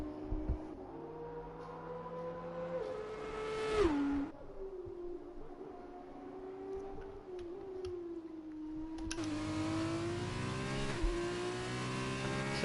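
An F1 car in a racing video game at Suzuka sings with a high, steady engine whine that climbs and drops through gear changes, growing louder and fuller near the end.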